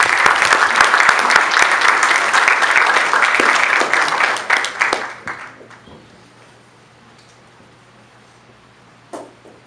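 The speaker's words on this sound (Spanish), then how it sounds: "Quiero que le demos un fuerte aplauso al doctor Aníbal Antonio Avelar." An audience applauds a doctor introduced as a speaker at a breast cancer talk, loud sustained clapping that thins into scattered claps and fades to near silence, with one last stray clap near the end.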